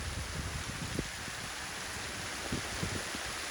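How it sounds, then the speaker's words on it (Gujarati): Steady rain falls over ripening millet fields, a continuous, even hiss with faint drops and soft low thuds throughout. "હવે વચગજ હાથે વરસાદ ઉપડ્યો"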